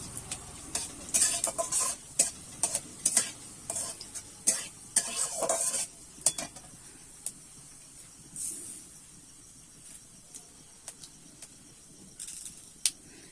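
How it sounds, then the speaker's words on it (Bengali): Whole dried red chillies and cumin seeds frying in hot oil, crackling and sizzling close up with sharp spatters and stirring scrapes, busier at first and then thinning out. "তেলের মধ্যে দেখো দুটো গোটা লঙ্কা দিয়ে দিচ্ছি দিয়ে দেবো সাদা জিরে ফোড়নটা আমি একটু ভেজে নেবো"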